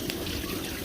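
Coolant water pours steadily out of a loose thermostat housing on a Prostar truck, a dense continuous splashing rush heard up close.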